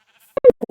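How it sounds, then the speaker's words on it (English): A video game sheep gives a few short, choppy bleats in quick succession, clear and close with silence around them. "Hello, pretty black sheep."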